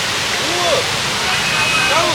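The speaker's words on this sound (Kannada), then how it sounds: "ಫುಲ್ ಜಾಸ್ತಿ ನೀರು ಬರ್ತಾ ಇದೆ." Waterfall swollen with monsoon rain roars loud and close, a thick unbroken wash of falling water with faint gurgles riding over it.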